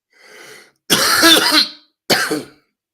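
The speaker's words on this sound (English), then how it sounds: "Get rid of this cough" A soft breathy throat sound, then a loud, close rasping throat clearing and a shorter harsh cough after a pause.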